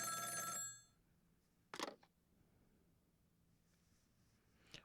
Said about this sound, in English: He gets the phone call.